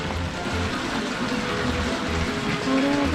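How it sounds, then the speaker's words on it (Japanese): Water pours down a small waterfall on the grounds of a Kyoto temple, a steady broadband rush heard fairly close and loud, with no talk. "上から水が流れて、すごい、めっちゃ綺麗ですね。"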